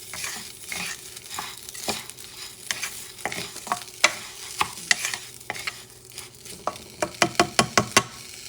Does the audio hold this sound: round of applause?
no